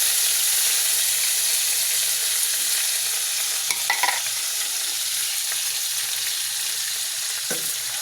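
Corned beef sautéing in a pan with onions, a steady hissing sizzle with occasional soft stirring knocks, close up and without talk.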